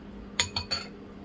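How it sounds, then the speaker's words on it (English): A spoon taps and clinks against a bowl holding a batter mixture for a Jamaican recipe, three quick light clinks close by against quiet room noise. "Now that we have the mixture ready, we're just gonna grab a spoon."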